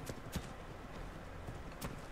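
Horse hooves clip-clop in the survival game ARK, a steady run of soft, close hoof knocks over a low ambient game bed.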